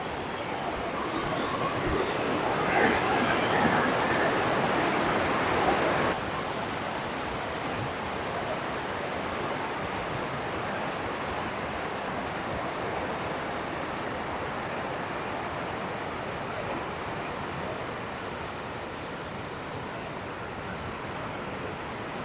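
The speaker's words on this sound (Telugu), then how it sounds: "ఎంత ఫోర్స్గా వాటర్ వస్తుందో చూడండి ఒకసారి" Water gushes forcefully near the 4 Bay dam at Mothugudem on the Godavari, a steady broadband roar close by, louder for the first six seconds and then a continuous rushing wash with no talk.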